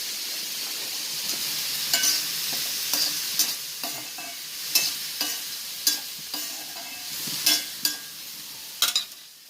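Mustard seeds and fenugreek fry in a pan with a steady low sizzle, broken by sharp crackling pops and scraping stirs at irregular intervals, close by and without speech.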